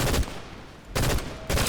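Fortnite gunfire in bursts: three loud, rapid volleys with short gaps between them, close and in the foreground.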